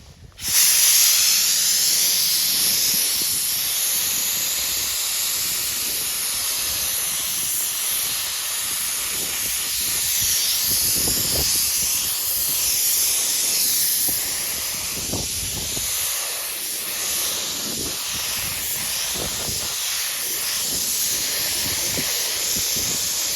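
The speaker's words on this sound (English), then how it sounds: "I have a little bit of primer in my gun here. We're going to put on a light coat and then a light to medium coat." A spray gun lays 2K primer onto a Lamborghini bumper under repair, a loud, steady, close hiss of atomized paint that holds almost without a break.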